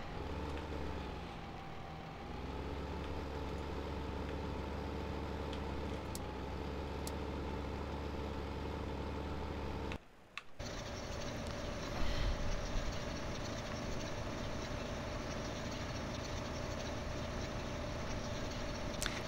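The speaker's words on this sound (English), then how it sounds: "God, this blooming tractor." A tractor engine drones steadily in the farming game Farming Simulator 15, a continuous mechanical hum that cuts out briefly partway through, then resumes with a slightly different pitch.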